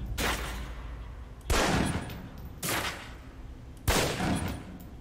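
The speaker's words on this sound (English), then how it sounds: "Equip the pistol, then aim down range and take some shots at the target." Pistol shots at a target range in the video game Alpha Protocol: four loud, sharp reports spaced about a second apart, each trailing off with a short echo, with no talk over them.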